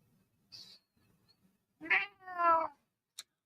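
A cat meows a few times nearby, a short faint mew followed by a louder, drawn-out meow, then a quick click.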